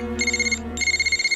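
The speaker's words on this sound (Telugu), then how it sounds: "Phone uncle." A phone ringtone rings loud and close as a steady electronic melody, playing in two pulsing bursts with a short gap between them and no one talking over it.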